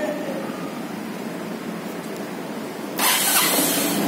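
A Dafra Citycom 300i scooter on its center stand starts up, a sudden engine catch and steady idle breaking in after a few seconds of quiet background hiss, close and fairly loud.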